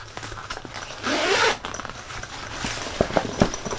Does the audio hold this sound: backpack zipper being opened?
yes